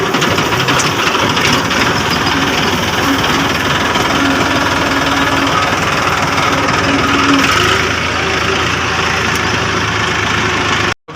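A tractor engine runs close by, a loud continuous drone that holds steady for about ten seconds before cutting off abruptly at the end.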